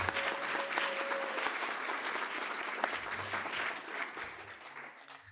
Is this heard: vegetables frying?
no